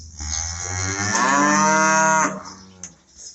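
A cow on a farm gives one long, loud, close moo lasting a couple of seconds, followed by a few quieter farmyard noises, with no talking.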